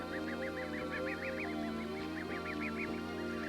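Goslings out grazing on open tundra give a rapid series of soft, rhythmic peeping calls, close and continuous over a quiet steady background.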